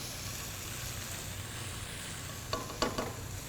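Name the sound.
shallots sizzling in olive oil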